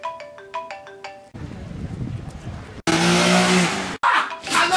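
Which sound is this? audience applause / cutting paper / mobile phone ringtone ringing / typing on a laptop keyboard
mobile phone ringtone ringing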